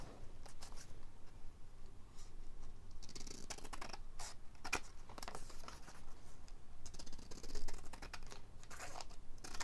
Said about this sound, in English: Let me just trim this down and see.